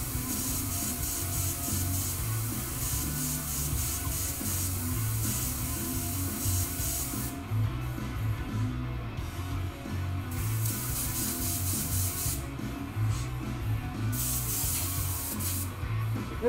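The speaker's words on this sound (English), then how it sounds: "That big compressor only turned on a few times." An air compressor runs for airbrush spraying on a shirt: a constant broad airy hiss over a low, pulsing mechanical hum, close and steady throughout.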